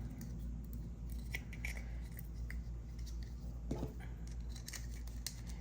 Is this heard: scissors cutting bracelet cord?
yes